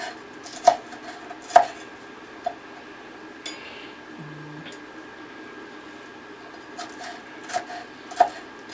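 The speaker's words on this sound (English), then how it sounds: "So we're going to take some onion and just chop it up." Knife chopping onion on a cutting board for homemade guacamole, a handful of sharp, close taps spaced irregularly with quiet pauses between, one small clink partway through.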